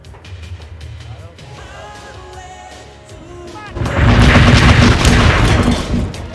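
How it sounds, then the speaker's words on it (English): Fireworks bursting over a rooftop at night in the video game Hitman 3, with quieter pops and tones giving way at the end to a loud, dense wash of booming explosions that rolls on continuously. "I could watch the fireworks one last time"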